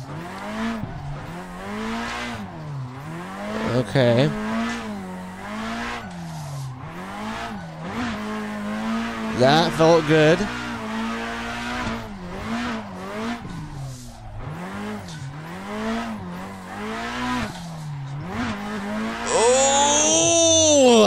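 Race car drifting in the Assetto Corsa sim on a full motion simulator, with sustained tire squeal wavering over a rising and falling engine note and brief revs, loud and close throughout, with a voice speaking briefly.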